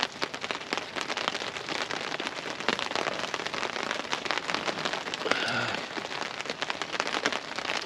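Steady rain pattering on leaves and ground in a forest at a bushcraft campsite, a dense continuous hiss of drops with scattered sharper taps, moderately loud and close, with no talking.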